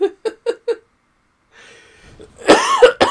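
A man coughs four times in quick sharp bursts, then a pause, then a quiet breath and a louder throaty cough or laugh toward the end.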